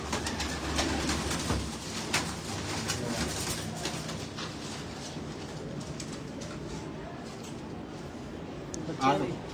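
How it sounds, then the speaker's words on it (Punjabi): Pigeons coo in a loft with a breeder of large crossbred racing pigeons, their soft repeated calls running steadily under nearby speech, with a louder coo near the end. "ਉਹ ਕਬੂਤਰ"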